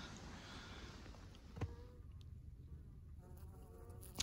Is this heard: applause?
no